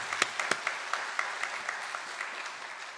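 A church congregation at Sunday worship gives a brief round of warm applause in welcome, with crisp individual claps in a fairly steady rhythm that thins out over a few seconds.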